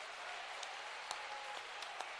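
Audience applause at a live poetry recital: a faint, distant, steady patter of many hands clapping, with a few louder claps standing out.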